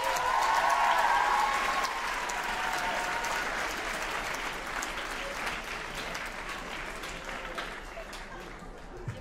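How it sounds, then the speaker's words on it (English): An audience at a writers' event applauds after a reading, a dense wash of clapping that starts loud and slowly fades across the clip, with a few cheers near the start. "Give these guys another round of applause."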